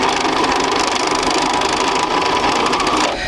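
A sewing machine runs steadily while stitching fabric quilt blocks with a quarter-inch seam, a loud close rapid mechanical whir that eases off at the very end, no talking.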